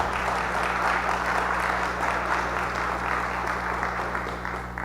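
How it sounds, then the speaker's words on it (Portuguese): Applause from an audience at a technical panel assembly in Rio de Janeiro, a steady dense wash of clapping lasting throughout, fairly loud, with a low constant hum underneath. "Palmas, pessoal, palmas."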